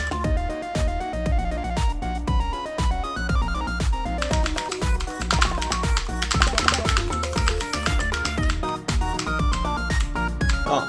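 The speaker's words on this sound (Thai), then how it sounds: "ขออภัยกับเสียงคีย์บอร์ดนะ" Continuous clattering computer keyboard typing with rapid, overlapping key clicks, close up and steady throughout, with music playing underneath.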